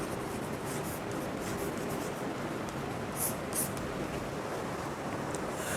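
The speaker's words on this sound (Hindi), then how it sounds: "यहाँ पे लिखते हैं एग्जाम्पल्स।" Examples written by hand on a board during an organic chemistry class, steady scratchy marker or chalk strokes with a few sharper squeaks in the middle.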